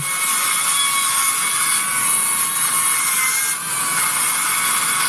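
A battery powered Dremel rotary tool whines at a high, steady pitch as it grinds into wood, carving a figure, close and loud with a brief dip midway.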